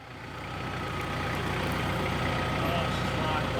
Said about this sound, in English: It always helps having the right tools, like a big tractor.